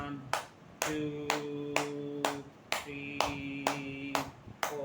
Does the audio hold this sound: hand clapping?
yes